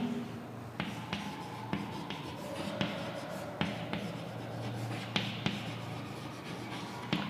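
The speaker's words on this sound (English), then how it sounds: "I am drawing the figure of the bryophyllum leaf." A pencil drawing a bryophyllum leaf on paper, a soft continuous scratching and rubbing of lead on the page with faint taps as strokes begin, quiet and close.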